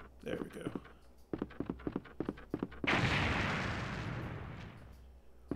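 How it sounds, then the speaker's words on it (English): A string of sharp impacts from Resident Evil 2 gameplay gives way to a loud explosion that bursts out and then rumbles and decays over a couple of seconds. "I think I would have run further away from that explosion"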